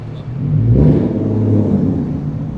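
A loud car engine revs up hard and holds a steady roar close by on a New York City street in Manhattan, with no talking over it.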